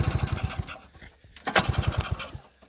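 A flooded two-stroke engine on a 1977 Honda Odyssey FL250 sputters and chugs briefly after recoil pulls, coughing in short bursts without catching, a rattling rasp between attempts.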